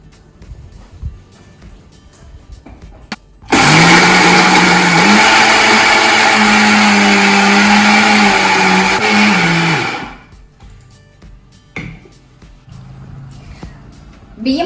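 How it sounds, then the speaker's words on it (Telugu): Electric mixer grinder grinding rice and other ingredients for unniyappam batter: a loud, steady motor whine starts abruptly, runs about six seconds with a slight pitch shift, then cuts off, with quiet room sounds before and after. "ఫస్ట్ ఇవి గ్రైండ్ చేసేద్దాం."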